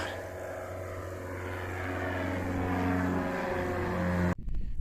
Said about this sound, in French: Ah, petit avion.